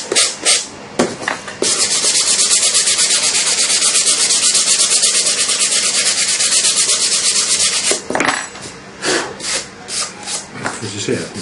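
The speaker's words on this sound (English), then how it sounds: "As you see, I can sand that." Foam being sanded by hand, a steady continuous rasping scrape that runs for several seconds, with short bursts of rubbing strokes before and after.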